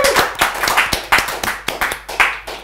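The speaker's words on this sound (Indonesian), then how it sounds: "tepuk tangan sekali lagi buat Babay" A few people clap for a guest on a podcast set. The claps are close, loud and distinct, coming in a quick uneven run of sharp strikes with no talk.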